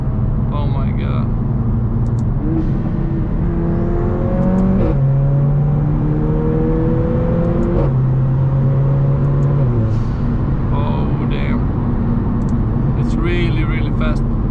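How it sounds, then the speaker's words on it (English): A Mercedes AMG A45 upgraded by RENNtech accelerates hard, its engine rising and falling through gears with a steady loud drone, while the exhaust gives occasional crackles and a voice talks over it. "you can hear the pops and crackles from the exhaust"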